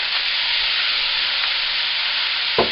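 Soft tofu cubes dropping into a hot frying pan of mapo tofu sauce, with a steady loud sizzle throughout and a brief soft plop near the end.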